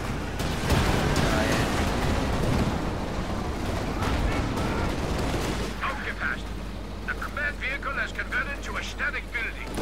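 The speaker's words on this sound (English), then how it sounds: "Oh, that's Steph's artillery. 105." 105 artillery fire in Company of Heroes 2 during a 4v4 battle, heavy booming blasts and rumbling impacts through the first half, then quieter battlefield ambience with scattered distant shots.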